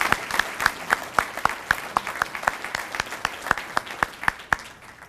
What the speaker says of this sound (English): let's give all of these folks a great round of applause